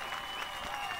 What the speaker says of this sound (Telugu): ఇంకా మీరు చేస్తున్న ఈ చప్పట్ల సౌండ్కి